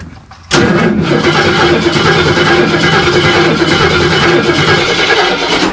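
A car engine in a dirt race car cranks briefly and then catches, roaring up loud and close into a steady, rough running note that holds to the end.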